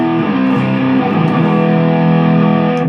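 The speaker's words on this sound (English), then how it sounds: "I use the Marshall Governor and the DS2 on a neck pickup" Electric guitar played on the neck pickup through Marshall Governor and DS2 distortion pedals, a thick, loud, sustained distorted riff with shifting low notes filling the whole stretch without pause.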